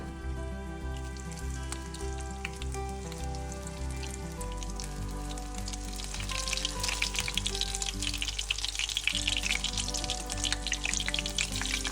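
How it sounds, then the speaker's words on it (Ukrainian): Syrniki, Ukrainian cottage cheese pancakes, fry in plenty of oil in a pan over medium heat, giving a dense crackling sizzle that grows louder and busier partway through, over a steady low hum, close by with no voices. "починаємо смажити наші сирники на середньому вогні"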